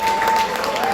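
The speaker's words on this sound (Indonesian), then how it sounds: "Tepuk tangan buat Ragil." Audience applause at a live music showcase in Yogyakarta, a dense steady patter of many hands clapping at close range for about a second, with a faint tone running underneath.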